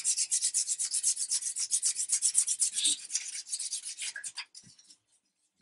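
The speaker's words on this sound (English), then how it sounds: "This is just run-of-the-mill 320 aluminium oxide sandpaper" A wooden gun stock hand-sanded along the grain with 320-grit aluminium oxide sandpaper: rapid rhythmic rasping strokes, close and even, slowing and breaking up before stopping near the end.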